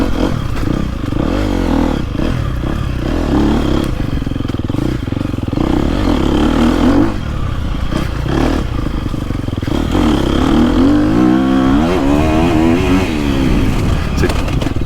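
A KTM 250 SX-F four-stroke dirt bike engine revs loudly and repeatedly in the woods, rising and falling in pitch close by, with rattling and scraping underneath and occasional speech mixed in.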